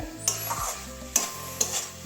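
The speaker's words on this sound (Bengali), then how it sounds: "কাঁচাই এভাবে ভেজে নিলাম" Raw slices of brinjal frying in a pan, with a continuous sizzle broken by three sharp scraping strokes of a spatula stirring the pieces, close and clear with no talking.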